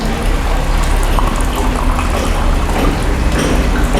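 Tap water pours steadily into a container in a loud, close, unbroken rushing stream, with no voices over it.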